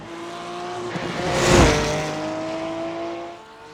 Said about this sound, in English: I am driving the Porsche 911 GT3 R